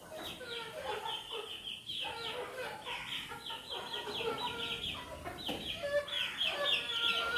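Hens of several different breeds at a village poultry yard cluck in a steady, overlapping chatter, with busy calls running through the whole stretch at moderate loudness and no talk over them.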